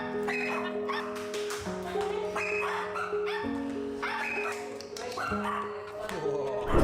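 A young dog that has lost two of its legs barks and whimpers in short yips and whines, set among steady music and other sounds that keep going under it.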